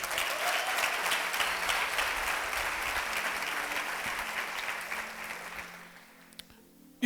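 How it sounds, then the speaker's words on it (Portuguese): A church congregation claps to welcome a visiting brother, a steady, moderately distant wash of applause that gradually dies away over the last second or two, ending in near quiet with a brief bump. "Uma salva de palmas para o irmão."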